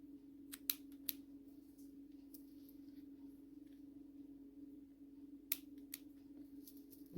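Scissors snip through crochet yarn while weaving in ends on a scrap headband, a few quick close, crisp cuts near the start and again later over a steady low background hum.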